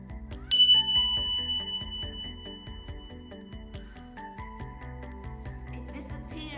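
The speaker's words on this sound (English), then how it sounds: "Listen for the sound of the bells and hands up when the sound disappears." A single bell chimes clearly, then its ringing tone slowly fades away over several seconds, with a soft second chime joining partway through.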